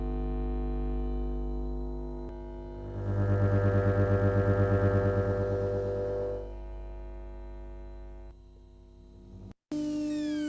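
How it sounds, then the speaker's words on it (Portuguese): Electrical hum from the field of overhead lights, picked up and turned into sound by special headphones: a steady drone with a louder, pulsing buzz swelling midway, then fading back to a low hum before a sudden cut. "esse som que vocês estão escutando é a vibração do campo elétrico da luz transformado em som"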